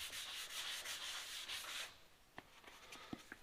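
Hand sanding on Ford XY Sedan bodywork gives a soft, quiet rasping rub for about two seconds, then stops, leaving a few faint taps.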